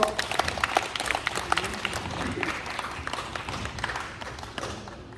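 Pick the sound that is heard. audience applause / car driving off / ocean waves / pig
audience applause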